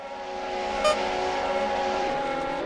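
Formula 1-style race cars idle and rev at the start of a race in a Nintendo Switch sim racing game, a steady, even engine drone with a slight rise and no talking.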